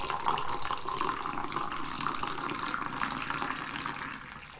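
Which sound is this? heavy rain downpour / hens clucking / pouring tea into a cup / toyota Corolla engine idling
pouring tea into a cup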